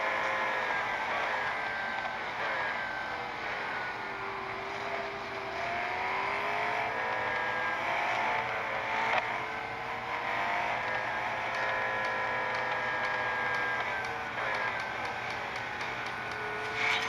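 Racing car engines drone steadily in a video game race as several cars remain on the grid, a continuous whining roar with gear shifts and pitch sweeps that holds level throughout, with no voices.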